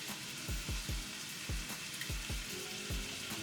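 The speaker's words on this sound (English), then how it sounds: "And then I add in the green and red peppers and the onions" Sliced green and red peppers and onions sizzle in a pan with cooked beef, a steady frying hiss broken by a series of quick, rhythmic scraping stirs close by, with no talking.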